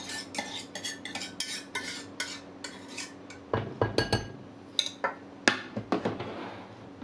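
Thick lemon cream scraped from a cooking pot into a bowl, with repeated metallic scrapes and clinks of a spoon against the pot in an uneven rhythm, quiet and close with no talk.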